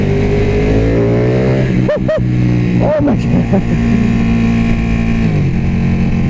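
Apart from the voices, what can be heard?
Ducati 1299 Panigale motorcycle engine revving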